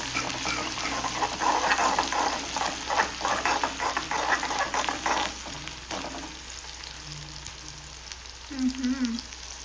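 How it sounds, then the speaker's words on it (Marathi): Chillies and tomato frying in hot oil in a kadhai for a tempering: a loud, dense sizzle with stirring for about six seconds, then a quieter crackle to the end. "टाकून घेतलेला आहे तेलामध्ये. हे व्यवस्थितपणे चांगलं भाजून घेते."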